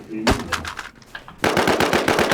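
Rapid automatic gunfire in the shooter game NewZ, set on a bridge: a single loud shot, a short lull with scattered quieter noises, then a dense, fast, loud burst of shots.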